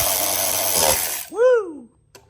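A new power tool driving stainless fasteners into an aluminum motorcycle hub on a chopper: a loud, close whirring burst for over a second, ending in a short rising-and-falling motor whine as it winds down.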